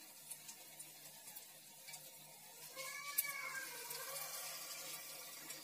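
Potato tikki fry in hot oil with a faint, steady sizzle and soft crackling pops that grow a little livelier partway through.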